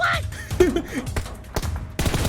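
Bursts of rapid PUBG Mobile gunfire crackle in short volleys, with a sharp louder burst near the end, over low background game noise.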